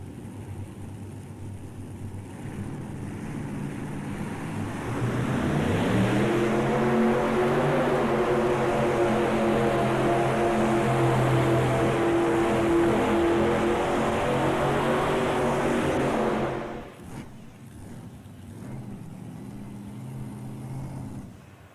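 Tractor-pull machine powered by four Chevrolet engines at a farm machinery show: a loud, climbing multi-engine roar swells in, holds for about ten seconds with rising harmonic tones, then cuts off sharply into quieter background noise.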